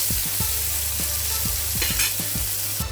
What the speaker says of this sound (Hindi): टोमेटो भी हम सारे मसाले के साथ अच्छी तरह भून के ले लेते हैं